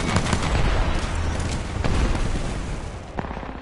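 Rapid, dense gunfire from a weapon in the battle royale shooter Apex Legends, a continuous loud stream of shots that holds for a few seconds and then tapers, with no talking.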